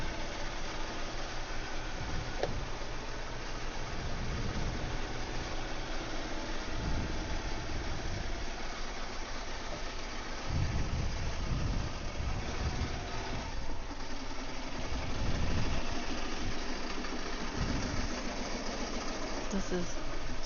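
Sewing machine stitching a floppy beach hat in a hoop, a low mechanical hum that runs steadily with rhythmic pulsing, pausing and restarting several times under a faint background.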